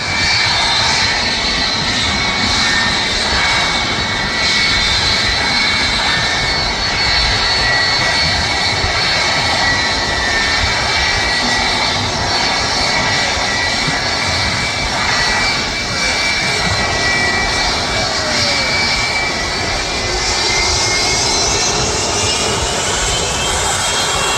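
Loud, continuous engine roar from a four-engine double-deck airliner at Manchester Airport, heard close from the runway visitor park and sustained throughout with no speech.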